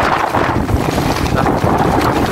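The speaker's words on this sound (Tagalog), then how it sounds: "Pare ko, lakas pa rin ang hangin." Strong, roaring typhoon wind buffets the microphone continuously beside a national highway, a dense low rumble with gusty surges and no pause throughout.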